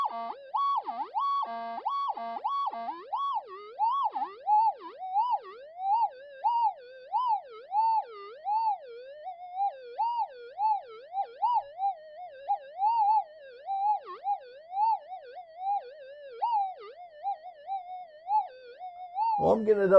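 A Minelab GPX5000 metal detector set to high gain gives off a wavering, warbling threshold tone that rises and falls in a steady, siren-like pattern, moderately faint and alone, ending in a short burst.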